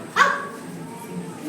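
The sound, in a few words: child imitating a dog barking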